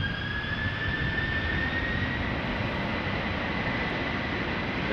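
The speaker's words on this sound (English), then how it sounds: "This is Delta Airlines Flight 47 going to New York JFK." Delta Airlines jet bound for New York JFK roars down the runway at Amsterdam Schiphol, a steady loud engine rumble with a rising whine, heard from a distance without talk.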